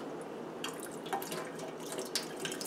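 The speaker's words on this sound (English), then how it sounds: "I want to have the water kind of flush through." Tap water running through an N95 respirator mask held under a faucet, a continuous close splashing and trickling stream with small drips and spatters, no voices.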